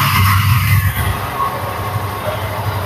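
Close by, a used Yamaha FZ V2 motorcycle engine runs at a steady idle, a continuous loud rumble with slight pulsing and no voices.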